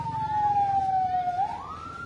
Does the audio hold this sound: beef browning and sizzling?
no